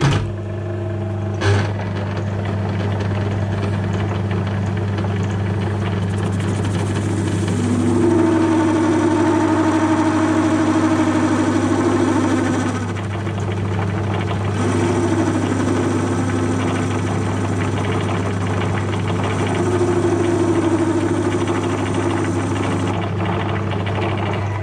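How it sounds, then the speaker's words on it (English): A metal lathe spinning too fast while parting off, giving a steady loud machine drone with a strong low hum and a rough, wavering chatter tone that rises and falls through the cut, no voices. "Spinning too fast, instantly getting chatter and dust."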